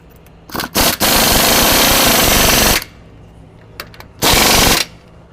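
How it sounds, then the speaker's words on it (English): Air impact wrench tightening a bolt on the rear trac bar bracket of a 2021+ Ford E450 V8 chassis, with two short rattling bursts followed by one long loud hammering run, a pause, then another short burst. "we'll tighten it up with our air impact"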